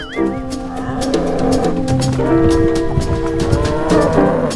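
Cattle mooing during a race in the video game GTA 5, sustained lowing calls layered over music and engine noise, loud and continuous throughout.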